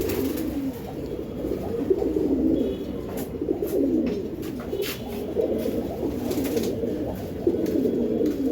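Racing pigeons coo in repeated low, throaty rolls, close by, with several overlapping calls and brief rustles between them.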